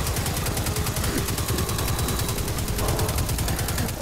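Dense, continuous rapid-fire gunfire in the video game Destiny 2 fills the whole stretch, a loud sustained rattle of automatic shots with no pause.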